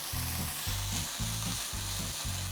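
Frozen spinach seasoned with salt and pepper sizzles in a hot pan while being stirred, soft steady frying hiss with rhythmic scraping strokes of the stirring utensil, close and fairly quiet, no talking.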